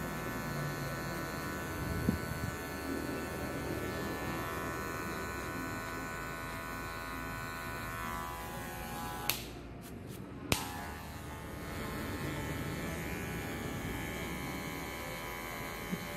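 An electric hair clipper buzzes steadily throughout a tape fade haircut, with its hum close and constant. A couple of brief clicks and a short gap break it near the middle.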